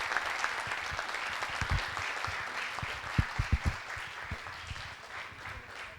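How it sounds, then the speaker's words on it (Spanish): Students applaud at the close of a university lecture on applied quantum chemistry, a soft, steady wash of clapping lasting several seconds, with a few louder, closer claps standing out near the middle. "Un aplauso para ustedes por estar acá."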